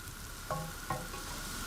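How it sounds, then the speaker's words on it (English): Onions frying in cold-pressed rapeseed oil give a steady, soft sizzle broken by a couple of light stirring knocks. "I'm frying them in cold-pressed rapeseed oil, which has a wonderfully mustardy flavour."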